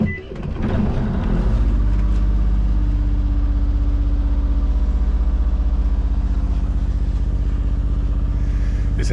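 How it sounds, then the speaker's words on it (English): A sailboat's inboard engine turns over and settles into a steady, loud, low idle-like throb while motorsailing away from the marina at Swanwick, running continuously with no talk. "This engine runs amazingly well when you give it fuel."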